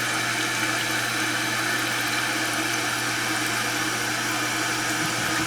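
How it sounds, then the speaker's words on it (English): A rebuilt 2011 Aqua Source toilet tank refills with water after the supply valve is opened, producing a constant, fairly loud rushing hiss with a low hum underneath that stays steady from start to finish. "cut the water back on. This thing starts filling"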